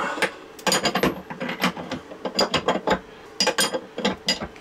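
Ratchet wrench tightening chain plate bolts, a rapid series of close metallic clicks and ratcheting bursts in uneven clusters, with no talk.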